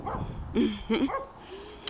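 A dog barks a few times from a short distance, quick yappy barks spaced close together, with a little background noise.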